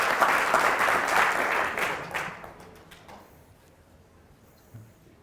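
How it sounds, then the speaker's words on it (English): Festival audience applause for a speaker, a burst of many hands clapping that fades out over a couple of seconds, leaving a quiet room with faint scattered sounds. "Big round of applause for Shannon."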